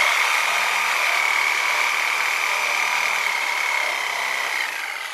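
A Sawzall reciprocating saw cutting through a Yamaha XVS 1100 Drag Star Classic motorcycle frame, a loud, close, continuous buzzing rasp that holds steady for several seconds before easing slightly at the end.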